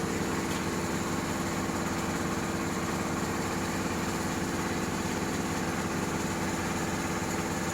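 Coconut shell charcoal briquette molding machine running in a small factory, a steady droning motor hum with continuous mechanical vibration and a faint rhythmic pulse, unchanging throughout with no voices.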